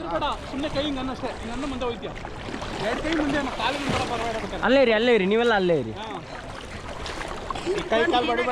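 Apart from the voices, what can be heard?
boat on the water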